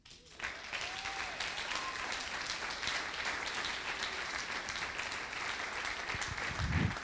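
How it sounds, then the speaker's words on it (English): An audience at a conference presentation claps steadily and fairly softly throughout, with a dense, even texture and a small swell near the end. "Round of applause, please"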